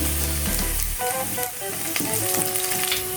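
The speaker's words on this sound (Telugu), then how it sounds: "ఇవన్నీ ఒకసారి వేయించుకోవాలి" Garlic and dried red chillies fry in oil in a pan for a dates curry, giving a steady loud sizzle with a few light clinks and stirring sounds over constant background tones.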